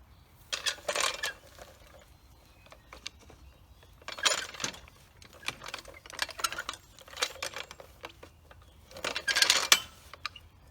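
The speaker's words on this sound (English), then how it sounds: "let's go ahead and jack it up so we can sharpen the blades" A jack lifts an Exmark Turf Tracer lawn mower with a few separate bursts of metallic clicking and ratcheting, close by and fairly quiet, with short pauses between them.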